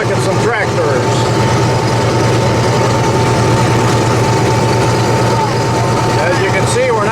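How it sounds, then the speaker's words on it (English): Steady loud engine drone of a John Deere Gator utility vehicle running on a farm field trip, continuous low rumble throughout with a voice talking over it. "We're in the John Deere Gator, if you can hear me over the noise"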